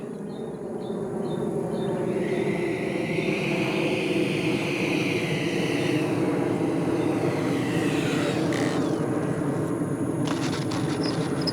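A Hobby King F-35 radio-controlled model jet flies in to land with its gear down, a steady, loud whooshing whine that rises and falls in pitch as it passes, with a brief high chirp near the start.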